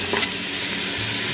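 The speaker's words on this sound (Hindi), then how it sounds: "हम इसको कुकर में डाल देते हैं" Paya trotters tipped into a pressure cooker, a short burst of sizzling and stirring rattle that is loud and close, with no talking.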